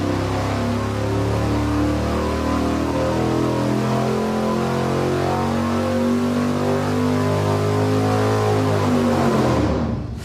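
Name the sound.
V8 engine revving on dyno, heavy springs, flimsy pushrods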